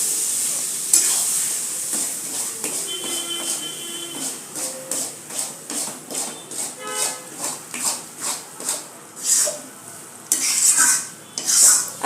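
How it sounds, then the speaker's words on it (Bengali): Egg tadka masala sizzles in a pan with a little water while a spatula scrapes and stirs in a steady rhythm of repeated strokes, close and fairly loud, metal clinks now and then. "এটা একটু ভাজা ভাজা হোক, মানে একটু কষুক আর কি।"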